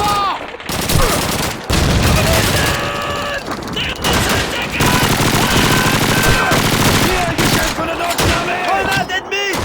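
Sustained gunfire in the video game Call of Duty 2, with rapid machine-gun bursts and rifle shots loud and continuous over a dense battle din, while voices shout through the fighting.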